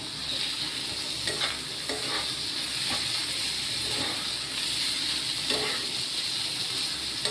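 Teasel gourd with chili paste and green chili frying in a pan gives off a steady hiss and sizzle, broken by occasional scraping stirs of a spatula, close and continuous.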